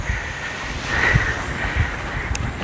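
Gentle, calm sea waves wash at a sheltered beach in Yeosu, Korea, a low steady surf with soft wind noise on the microphone and no talking.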